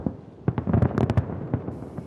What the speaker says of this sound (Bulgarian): Дългия ден по встъпване в длъжност на новия американски президент завърши с небесно шоу с фойерверки